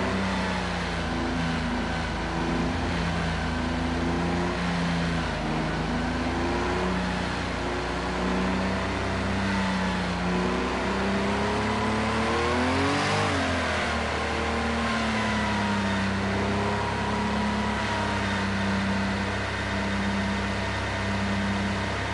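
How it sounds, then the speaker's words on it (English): Race car engine in the Project Cars 2 racing game, a Group 6 prototype, droning and revving in a long steady tone with rising and falling pitch sweeps, a sharp rev around the middle, no talking. "Nice engine sound."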